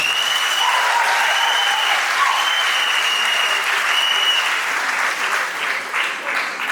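Guests at a civil wedding ceremony give the bride or groom's father a loud, steady round of applause that holds dense and even for several seconds before thinning slightly at the end.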